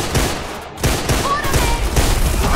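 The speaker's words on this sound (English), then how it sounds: "Quatermain, shoot the ceiling!" Gunfire aimed at a ceiling in the video game Deadfall Adventures, set in an Arctic base: a dense, loud fusillade of shots filling the whole moment, with brief gaps between bursts.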